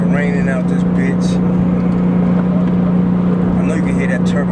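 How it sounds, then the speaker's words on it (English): A Porsche 911 Turbo engine drones with a steady, loud hum while driving in the rain, heard from inside the car beneath someone talking continuously. "I know you can hear that turbo engine roaring."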